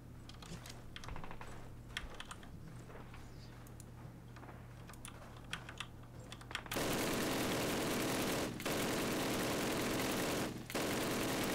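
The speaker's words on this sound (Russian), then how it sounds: "Чувак, прекрати стрелять." Call of Duty's snowy Hürtgen mission on Veteran: a stretch of quick clicking gives way to loud, sustained automatic gunfire that roars for the final seconds, broken by two brief gaps.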